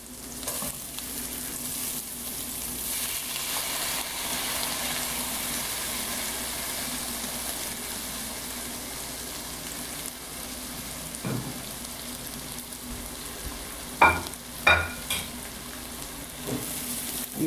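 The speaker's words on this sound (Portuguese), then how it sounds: "E eu vou refogar ele bem." Rice sizzles steadily as it is sautéed in a pan while being made into loose broken rice, a constant frying hiss with a few sharper scraping stirs near the end and no talking.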